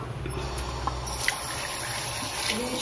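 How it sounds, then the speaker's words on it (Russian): Water is poured out for a pet on a hot day, giving a steady, low-level trickling and splashing that runs through the short moment without any talk. "Жарко, давай водички тебе налью."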